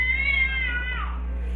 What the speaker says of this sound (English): that cat's out of the rocking chair again